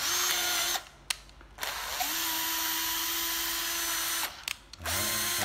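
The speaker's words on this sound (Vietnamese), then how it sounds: "đây là con máy khoan Hitachi 12V nhé" A Hitachi 12V cordless drill whines at a steady high speed in two long runs, stopping briefly between them and again near the end, close and alone without talk.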